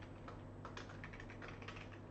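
Someone types quietly on a computer keyboard: soft, rapid key clicks in an uneven stream over a steady low hum.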